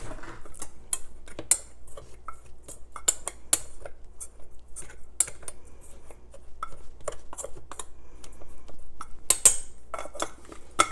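Milk thistle seeds are stirred while toasting in a home roasting unit, giving a quiet run of light scraping, rattling clicks and ticks that continue steadily throughout with no talk.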